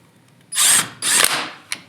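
Impact gun on a 2021 Honda Talon 1000R UTV, tightening lug nuts on a wheel: two loud, close bursts of about a quarter second each, then a brief short rattle, with no talk.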